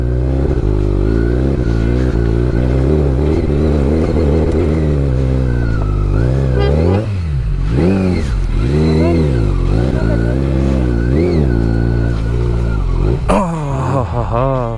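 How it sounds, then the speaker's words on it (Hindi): A Kawasaki Z900 motorcycle climbs a steep mountain shortcut on a Spiti expedition, its engine loud and close throughout, revs rising and falling in sweeping surges. "आराम से चढ़ गई भाई, कोई स्ट्रगल नहीं किया बाइक ने"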